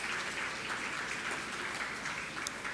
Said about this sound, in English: Kindly give a generous round of applause to our students.